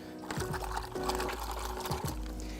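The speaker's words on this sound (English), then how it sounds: "Let's give the hands a quick wash." Hands are washed under running water. A steady, loud rush of flowing water continues throughout, with a few brief splashy changes as the hands move through the stream. No one speaks.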